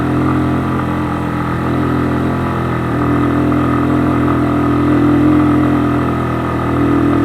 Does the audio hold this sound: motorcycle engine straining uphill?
yes